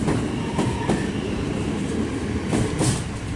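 A high-capacity electric passenger train departs Pakenham station in Melbourne, rumbling steadily nearby with a broad, continuous roar and a few sharp clicks and squeaks from the rails, no voices.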